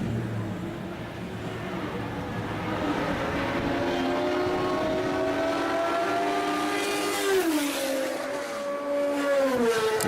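A historic Hesketh Formula One race car on track, its engine a steady high-pitched howl that builds and then drops sharply with gear changes as it passes, heard alone with no talk.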